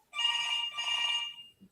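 A telephone rings in two electronic trill bursts close by while a call is placed, followed by a brief faint click.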